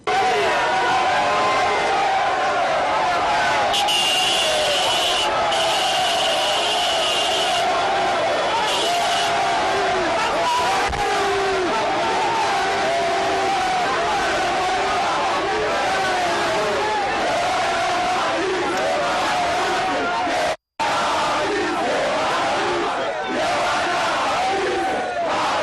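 A frenzied crowd in the streets of Kinshasa roaring and shouting for President Joseph Kabila during his inspection visit, a loud, unbroken wall of cheers and cries that carries on with only one brief dropout.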